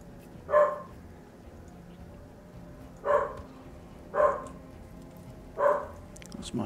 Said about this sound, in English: That's my dog going ape for some reason.